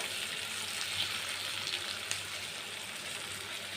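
Onions frying in oil with bay leaf and dried chilli to make a country chicken curry, giving a soft, even, continuous sizzle at low volume with no voices.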